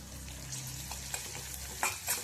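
Chopped green chillies, curry leaves and spices sizzling in hot oil in a pan and stirred steadily, giving a soft continuous hiss with a few brief scrapes, close and fairly quiet.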